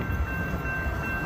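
Westbound Union Pacific intermodal and autorack freight train led by locomotive 6029 passing the Massingale Road crossing in Marana, a steady loud low rumble of rolling cars close by.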